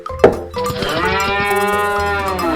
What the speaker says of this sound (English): We have some cattle,